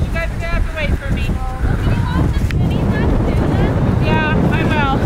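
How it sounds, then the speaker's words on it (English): Strong wind buffets the microphone in a constant heavy roar, with a few high squeaky tones cutting through in short bursts. "It is windy out. It's so windy out."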